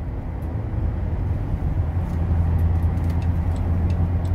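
Car traffic on Highway 1, a steady low road rumble from a moving vehicle with faint tire hiss, holding constant throughout and swelling slightly toward the end, no talking.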